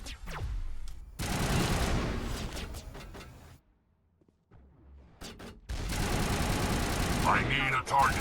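Bursts of weapon fire from the video game Mass Effect, including sniper rifle shots, come as dense loud rattling stretches broken by a short quiet gap, with game sounds and speech mixed in.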